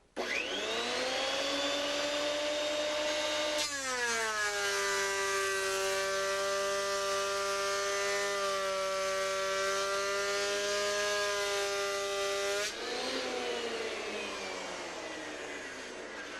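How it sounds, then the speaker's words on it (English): An electric wood planer with worn, nicked blades feeds a board through. Its motor whines loudly and continuously, and the pitch drops and strains while the board is in the cut before rising again. "I'm going to run a board through here and we can take a look at the nicks."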